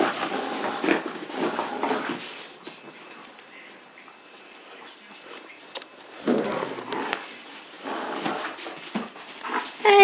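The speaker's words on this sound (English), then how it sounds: "Silly Irish dog is preparing a lamb." Irish dog busy with a lamb indoors, giving soft whimpers, yips and small rustling sounds at close range over a faint background, with a few louder bursts toward the end.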